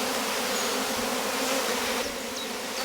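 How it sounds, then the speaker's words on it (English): A swarm of honey bees settled in a hive box with their queen, stores and plenty of space gives a dense, steady buzzing drone that stays close and loud throughout, with no voices. "is a swarm of bees, but it's already neatly in the box with the queen, some stores and plenty of space."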